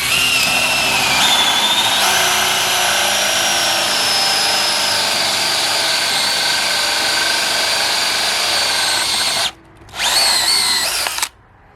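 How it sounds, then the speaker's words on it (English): A Dewalt DCD795 cordless drill runs at high, steady speed while drilling through material, a loud continuous whine that dips briefly, surges again, then cuts off near the end. "The power on this drill is crazy."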